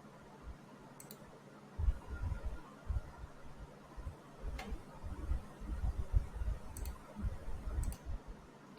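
A computer mouse clicks sharply a handful of times, crisp isolated ticks close by over a faint background hum, with no speech.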